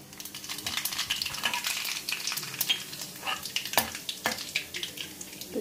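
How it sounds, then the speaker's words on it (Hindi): Cumin and mustard seeds crackle and sizzle steadily in hot peanut oil, left over from frying peanuts, with a dense close frying hiss, scattered pops and occasional stirring clinks throughout. "ये जो हमने भी मूंगफली तली थी वही वाला तेल है। इसमें हम डालेंगे जीरा और राई।"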